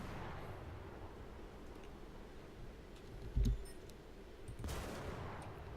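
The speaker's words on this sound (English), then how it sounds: "Start firing at the target. Ranging shot, there we go." Naval guns in War Thunder firing ranging shots, a heavy low boom around the middle followed by another rumbling blast, set against a quiet hiss of ambient background.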